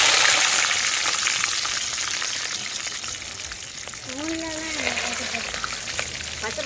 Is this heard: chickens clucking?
no